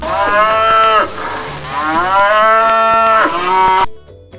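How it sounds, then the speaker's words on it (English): A cow moos loudly and close up in two long, drawn-out calls with a short break between them, and the second call trails off into quiet. "A cow says moo."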